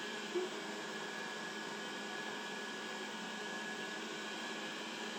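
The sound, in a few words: Dreame D10s Pro Plus robot vacuum with rotating brush running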